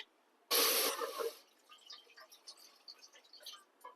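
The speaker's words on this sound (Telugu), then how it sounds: "ఒక్కొక్క అర గ్లాసులు పోస్తా" Water is poured from a glass onto sugar in a pot to make syrup, a short loud splashing pour followed by faint scattered drips and clinks in a quiet kitchen.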